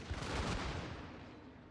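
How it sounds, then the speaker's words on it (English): Artillery bombardment in Total War: Shogun 2 rolls as a dense, rumbling barrage of overlapping booms and crackling fire, loud at first and slowly fading. "Let's keep the bombardment up."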